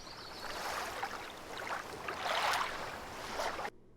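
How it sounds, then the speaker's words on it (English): Lake waves come in against the shore in soft, irregular swells and splashes, a few louder surges rising out of a gentle watery wash before cutting off abruptly. "listen to my lake waves coming in"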